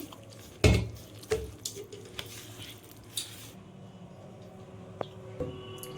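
Flour dough being mixed with water in a bowl for chira (flattened rice) pakora batter: soft, wet squishing and stirring with a few sharp knocks against the bowl, fairly quiet and close.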